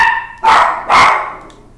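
Two sharp, loud barks from nearby dogs land about half a second apart, each ringing out briefly before decaying, with a fainter yip near the end and no talking.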